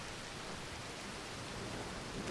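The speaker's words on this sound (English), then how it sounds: "It's now raining." A faint, steady hiss of falling rain in Red Dead Redemption 2, continuous and even, with no voices.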